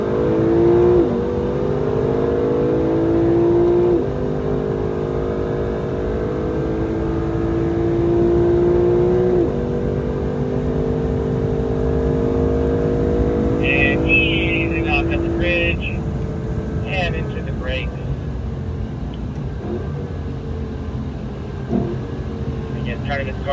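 A race car at Circuit of the Americas accelerates through its gears, engine pitch climbing repeatedly with shifts and sustained revving, heard from inside the car under a driver's running commentary.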